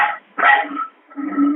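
A dog barks in a behind-the-scenes clip played back during a show about canine stars, giving three short, close bursts with pauses between them, the last one lower and more drawn out, with no talk.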